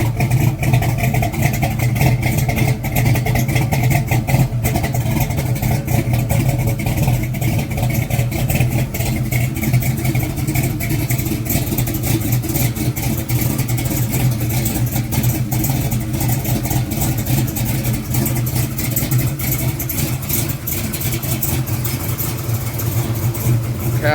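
A car engine with a newly upgraded 3-inch exhaust system runs steadily and close for the whole stretch, a loud, deep low rumble that holds near idle with slight swells, while faint voices murmur underneath.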